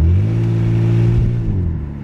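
Low, steady engine and exhaust drone from a BMW E46 325xi on the move, with vibration from the exhaust and drive shaft under the cabin floor; a loud, continuous rumble that eases off slightly toward the end.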